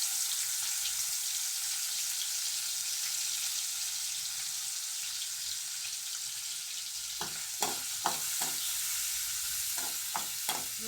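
Raw prawns frying in hot oil give a steady, close broadband sizzle with no voices, joined in the last few seconds by a run of sharp spatula scrapes and clicks against the pan.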